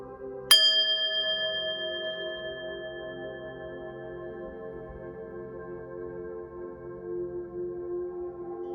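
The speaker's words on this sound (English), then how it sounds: "I'm going to ring the bell now." A single bell is struck once, ringing out clear and bright, then its tone slowly fades over several seconds in a quiet room.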